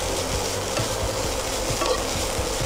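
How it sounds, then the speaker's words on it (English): Chicken sukka fries on a medium flame with plenty of curry leaves, a steady close sizzle with faint periodic scraping of a spoon stirring through the pan, no voices. "Fry this on medium flame"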